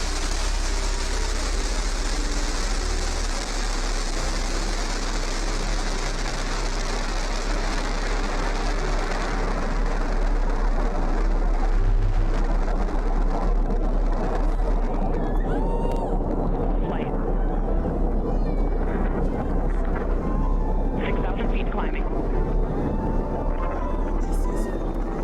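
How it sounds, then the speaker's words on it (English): Blue Origin New Shepard rocket (NS-31 mission) lifting off from the Corn Ranch launch site, heard as a broad, steady roar that stays loud throughout while a voice speaks over it. "Liftoff. New Shepard has cleared the tower."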